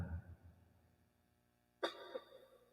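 One short, sharp cough breaks a faint, quiet background, followed by a smaller second burst.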